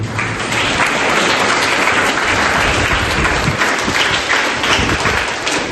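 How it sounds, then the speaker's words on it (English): Vigorous, continuous clapping from a school audience at an Ashoka Academy Rabindra Jayanti celebration, loud and unbroken for several seconds with no voices on top. "the great clapping for the great contribution"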